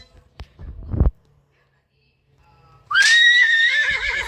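A horse in the Roblox game Empire Clash gives a loud, bright whinny with a wavering tail after a few soft thumps and a quiet pause.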